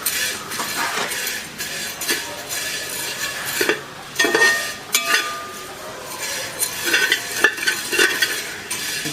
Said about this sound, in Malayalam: നമ്മളിതൊന്ന് വറുത്തെടുക്കുകയാണ്.